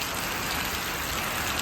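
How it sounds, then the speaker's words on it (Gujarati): Heavy monsoon rain pours steadily and loudly in a Gujarati home, a dense, continuous hiss with no pauses. "તો વરસાદ તો ખાવાનો જ પણ જાય એટલો વરસાદ છે"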